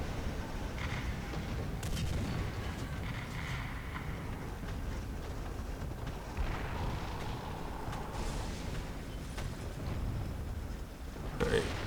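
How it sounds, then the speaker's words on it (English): War Thunder artillery rumbles as a series of low, muffled booms and thuds behind a tank battle. A player talks at times over the steady background. "Let's throw some arty over here."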